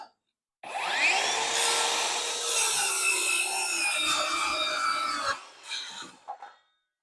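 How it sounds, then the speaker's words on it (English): Ryobi brushless power tool cutting through wood, a loud steady buzzing, rasping cut lasting about five seconds, then stopping with a few brief trailing bursts as the blade winds down. "Now this is a brushless motor for the ryobi."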